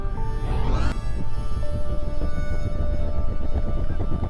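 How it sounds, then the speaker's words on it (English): A rising whine spins up, then an aircraft engine settles into a steady, rumbling drone with a faint tonal hum, close and continuous, in the X-Plane flight simulator. "which will start engine number 1 in X-plane"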